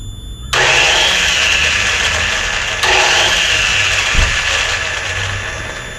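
A Suzuki RE5 rotary motorbike with a refurbished starter motor cranks loudly and steadily up close, pausing once before cranking again and nearly catching, with a low thump partway through.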